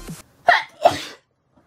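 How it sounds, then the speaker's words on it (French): Two sharp sneezes in quick succession, close and loud, each a sudden explosive burst followed by a short breathy tail. "Je vais encore éternuer"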